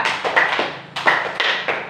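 Hand claps of a concentration clapping game, sharp and close, falling in short irregular groups of one and two with brief pauses between, no voices over them.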